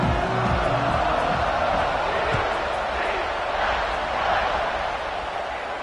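A stadium crowd in a football video game keeps up a steady roar of cheering for the whole stretch, dense and fairly loud, with faint thuds and whoops mixed in.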